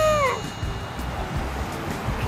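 A cat meows once at a café with many dogs and cats around, a short rising-falling call at the start, then only soft room murmur follows.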